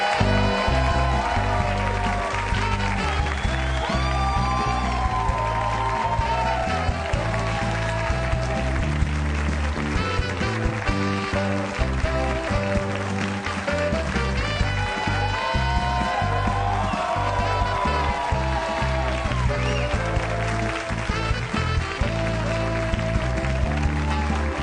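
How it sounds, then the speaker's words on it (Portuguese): A talk-show studio audience applauds steadily while the house band plays a lively tune, the clapping spread evenly beneath the brassy music for the whole stretch. "Que maravilha de música, João. A música e os aplausos."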